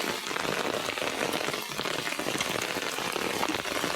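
Rain falling over farm fields, a dense, steady patter of drops on surfaces that holds evenly throughout at moderate loudness, with no voices.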